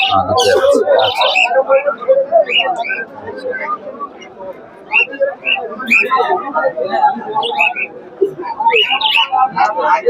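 Imported racer pigeons and other birds chirp and coo at a busy Habra bird and poultry market, their calls scattered throughout under loud, continuous conversation from traders and buyers.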